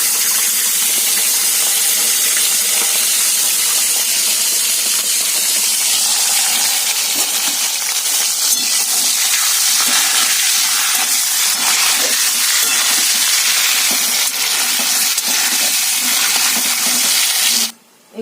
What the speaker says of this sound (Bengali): তেল গরম হয়ে গেছে দেখো শিমগুলোকে একটু ভেজে নিই